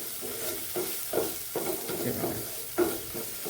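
Masala for a chana dal and pumpkin sabzi sautéing in a pan over medium heat, a soft steady sizzle broken by a few louder scraping stirs of a spoon against the pan, close and with no talking.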